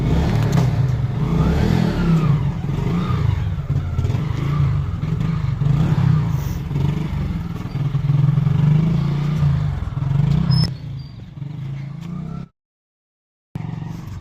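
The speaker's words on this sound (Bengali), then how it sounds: "বাপি এখানে গাড়ি বের করে নিচ্ছে আমিও সঙ্গে সঙ্গে যাচ্ছি" A family car starts and is driven out, its engine rumbling and revving steadily at close range for about ten seconds before fading, then a moment of silence and a short return of background noise.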